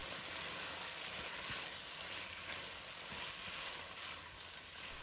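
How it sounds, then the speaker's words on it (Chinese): Continuous sizzling of Kung Pao chicken being stir-fried with cucumber, onion and peanuts, a steady close hiss of frying with faint stirring and no voices. "继续翻拌一下"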